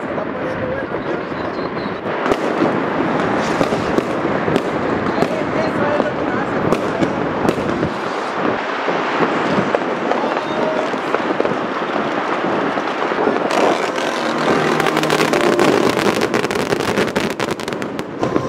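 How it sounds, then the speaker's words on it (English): New Year's Eve fireworks in Aruba burst repeatedly all around, a dense crackle of bangs and pops with distant rumbles and crowd noise mixed in. "As the clock approached 12 and fireworks began to erupt all around"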